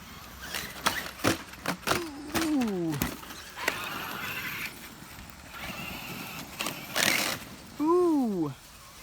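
Brushless Traxxas Summit 1/10 RC truck on 4S power with a faulty rear differential, whining up and down in pitch through repeated rising and falling sweeps, with short bursts of mechanical clatter and rattle in between.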